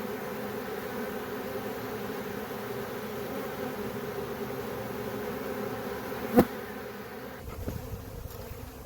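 A steady, dense buzz of a large honey bee swarm fills the scene, constant and close, with a brief sharp click near the end.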